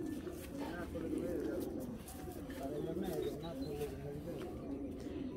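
Racing pigeon cooing in a loft, low soft coos repeating through the clip under a steady background murmur, with other birds faintly chirping.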